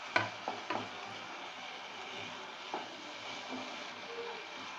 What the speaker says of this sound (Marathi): आता हे सर्व मिश्रण गॅस कमी करून मी एकजीव करून घेते